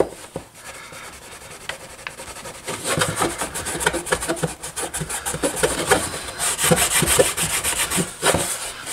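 A rag soaked in lacquer thinner scrubs white spray-paint specks off ABS motorcycle plastic, giving close, repeated rough rubbing strokes that swell in bursts, with no talking.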